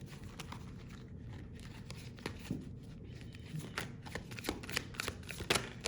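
Oracle cards being shuffled by hand in a steady run of soft papery riffles and slaps, close and fairly quiet, with no talking.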